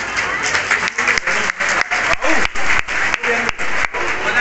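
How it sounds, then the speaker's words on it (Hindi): An audience applauds loudly at a Chadiyar government school event honouring Prem Singh Rana, with dense, steady clapping broken by several short gaps, close and full. "जोरदार तालियों के साथ स्वागत करेंगे"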